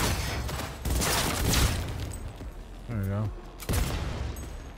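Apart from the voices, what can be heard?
gunfire in video game Cyberpunk 2077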